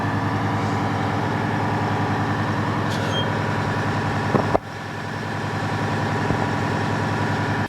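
A fire department engine idles close by at a rural station, a loud, steady low diesel rumble throughout with a brief clunk midway and slight level shift after.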